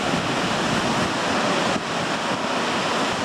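Steady roar of Baltic Sea surf washing over a beach at Brzeźno, broadband and continuous, with a brief dip midway before the rush resumes.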